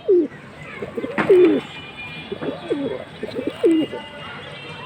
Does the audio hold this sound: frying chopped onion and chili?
no